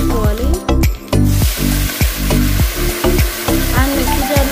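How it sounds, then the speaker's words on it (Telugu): Gongura leaves hiss and sizzle in hot oil in a pan along with chillies, garlic and curry leaves. The spatter is loud and continuous, broken by repeated clanks and scrapes of a spoon stirring. "తర్వాత గోంగూర ఆకులు వేసి వేయించుకోవాలి."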